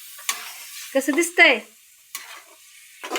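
Pre-cooked mutton sizzles in a hot pan under a few scrapes and clatters of stirring, with a short spoken remark over the frying midway.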